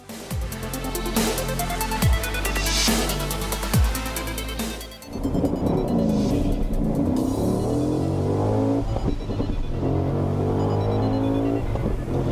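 Chevrolet Corvette Z06 on the Palm Beach International Raceway road course, loud engine revving through several rising and falling acceleration sweeps, close and continuous with no talking.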